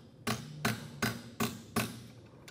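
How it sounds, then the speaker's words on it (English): Five evenly spaced hammer blows ring out on metal held in a vise, bending it into a V shape, each strike a crisp clank with a short decay. "going to take my hammer and pound it so that I can make it into this V shape here a little bit"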